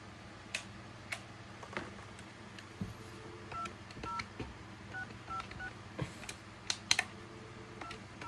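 Touch-tone keys are pressed on an AT&T 210 telephone, giving a series of short, quiet beeps mixed with faint clicks of the buttons.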